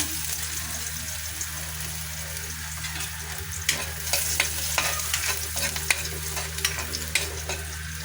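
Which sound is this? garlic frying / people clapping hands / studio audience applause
garlic frying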